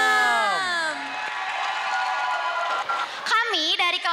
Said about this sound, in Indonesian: Berikan tepuk tangan yang meriah untuk kelas 10-6